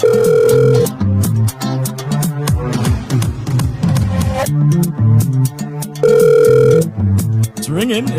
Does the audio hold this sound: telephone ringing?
yes